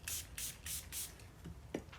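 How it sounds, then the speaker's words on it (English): Four quick hissing bursts of cleaner from a trigger spray bottle land on leather car upholstery, close and fairly quiet, followed by soft rubbing and handling noises. "we're going to start by just spraying down the surface"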